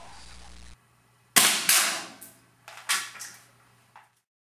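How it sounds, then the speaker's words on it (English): A BB pellet strikes the ridge above the frames of plastic mesh goggles: a few sharp plastic clicks and snaps, a loud crack followed by smaller knocks and a faint final tap, close and otherwise quiet. "This BB landed directly on the ridge line above the frames of the goggles."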